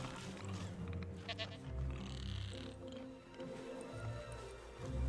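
A goat in the Jurassic World Evolution dinosaur game bleats repeatedly in short, close, wavering cries over a low game ambience, with a faint voice in the background.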